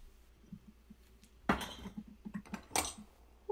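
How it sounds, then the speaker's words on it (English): Dishes being stacked or washed in a sink, with faint quiet clinks of metal on plates and a couple of sharper louder clatters over a low background. "I think this is someone stacking a dishwasher or doing some dishes in the sink."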